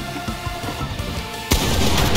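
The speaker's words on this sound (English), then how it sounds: "How do you have a pump shotgun?" Pump shotgun in the Fortnite video game firing, one loud, sharp blast that breaks in suddenly and fills the rest of the moment with dense noise, following quieter game rumble and scattered thumps.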